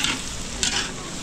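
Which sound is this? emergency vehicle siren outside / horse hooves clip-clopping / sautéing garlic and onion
sautéing garlic and onion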